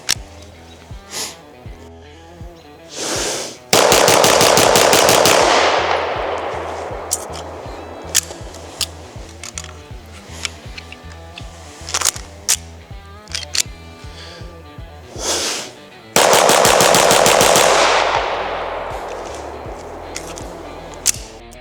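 Two loud pistol shots from an Ed Brown Fueled Series M&P ring out far apart, each a sharp blast with a long decaying echo, separated by quieter clicks and handling noises.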